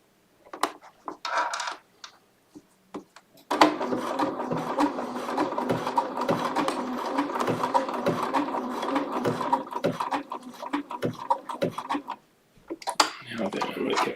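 A Bernina sewing machine stitches small fabric pieces in a long steady run of rapid mechanical clatter, preceded by a few short bursts and brief stops, close and fairly loud.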